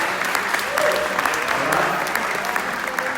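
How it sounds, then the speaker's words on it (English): Audience applause at a community meeting led by a congressman, a steady wash of many hands clapping throughout, loud and continuous with no voices standing out. "Give her a round of applause."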